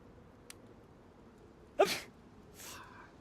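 A sick survivor character in DayZ on a winter map lets out one sharp, close sneeze, followed by a softer breathy exhale, over a quiet background.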